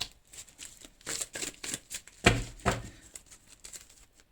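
Tarot deck being shuffled by hand, a series of close, crisp riffling and slapping card sounds in uneven bursts, with one sharper snap as a card jumps out of the deck.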